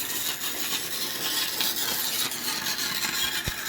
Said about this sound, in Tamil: ஃப்ரெண்ட்ஸ் வாங்க வெல்டிங் அடிச்சு பார்த்துடலாம்